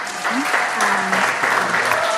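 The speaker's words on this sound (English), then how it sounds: "quick clap from the studio" A short burst of studio applause from a small group, brisk and continuous, with voices calling out over the clapping.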